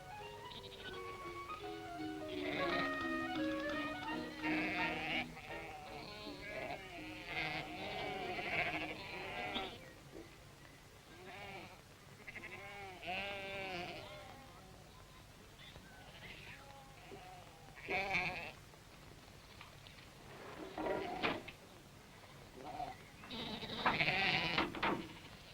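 Sheep bleat repeatedly inside a small livestock carrier towed by a Series 2 Land Rover, with several close calls of varying pitch spread across the stretch and a steady engine-like hum underneath.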